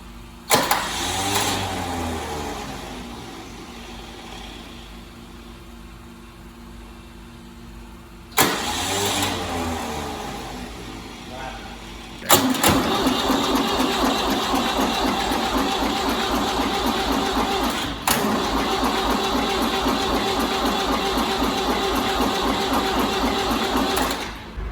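An old Ford car engine is cold started, with repeated cranking whirs, brief stops and then a longer, loud rhythmic cranking churn close by, as the engine struggles to fire.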